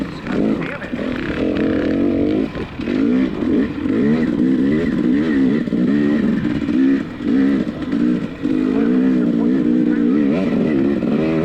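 Motorcycle engine racing at the Frostbite GP hill climb course in Odessa, Washington, revving hard and continuously with rising and falling pitch through shifts, loud and close throughout.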